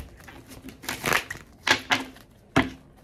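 Large, heavy-feeling tarot cards are shuffled by hand, giving a few close, crisp riffling and slapping bursts separated by short pauses.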